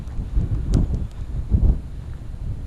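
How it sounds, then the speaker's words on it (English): Strong gusts buffet the microphone outdoors, heavy low rumbling surges in waves with brief peaks, loud and close, no other clear sounds beneath the roar. "in places where the wind is just crazy"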